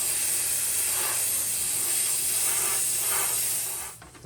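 Aerosol spray paint hissing onto a Proline Traxxas UDR RC truck body, one steady close continuous spray lasting about four seconds before cutting off, with no talking.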